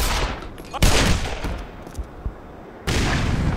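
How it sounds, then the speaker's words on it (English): Gunfire in the video game Black Mesa: Xen comes in loud, close bursts and rapid volleys, with sharp onsets near the start and again toward the end. "We're being shot at"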